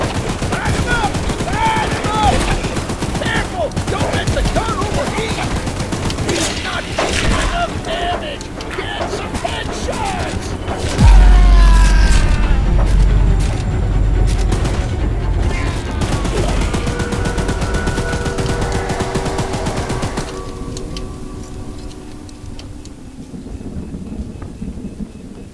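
Video game Choo Choo Charles, a mounted gun firing at the monster train Charles, rapid bursts of heavy gunfire and booming impacts with a loud, rumbling blast midway, then the firing thins to sparser shots with voices heard during the action.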